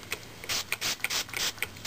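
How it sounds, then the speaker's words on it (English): Mane 'n Tail detangler is sprayed onto hair from a spray bottle in a rapid series of short, sharp hissing spritzes, close up and loud, with no voices. "So I'm going to spray the mane and tail on."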